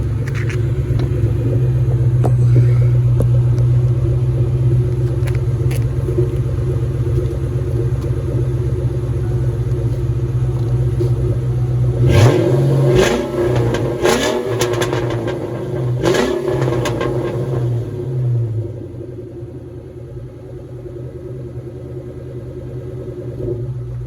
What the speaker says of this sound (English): little sound bite of the exhaust